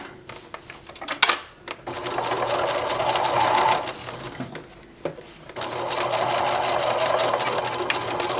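A sewing machine stitches a fabric purse handle near a D-ring in fast mechanical bursts of whirring stitches, with a few short pauses and clicks between runs, loud and close with no talk.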